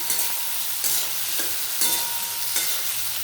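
Vegetables with chopped ginger frying in a pan for chilli paneer, a loud steady sizzle with about four sweeping spatula strokes at an even pace.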